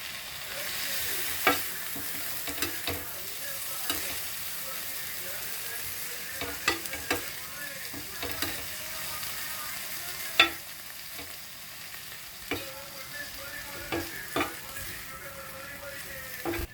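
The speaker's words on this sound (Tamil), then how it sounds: "குருமா சேர்த்துட்டு இப்போ நல்லா மிக்ஸ் பண்ண போகிறோம்." Veg kothu chapathi being stirred with kurma in a pan, a continuous soft sizzle broken by repeated sharp scrapes and taps of the spatula.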